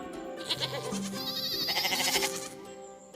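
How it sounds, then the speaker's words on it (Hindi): A goat bleats loudly and close by, one long wavering cry that rises and falls, with no talk. "बकरी,"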